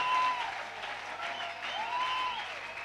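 Church congregation at a Bible convention applauding and cheering for God, a dense sustained wash of clapping with a raised voice crying out twice over it.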